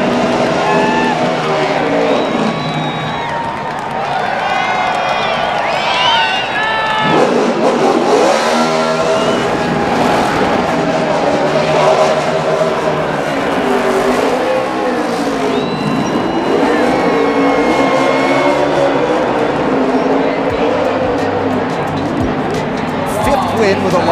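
NASCAR stock cars race at the 2013 AdvoCare 500, engines roaring and revving loudly and continuously under heavy crowd noise and announcer commentary throughout.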